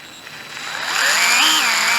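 A DeWalt 80V cordless screwdriver motor spins up from quiet to a steady whine, rising in pitch and holding close and loud over two seconds.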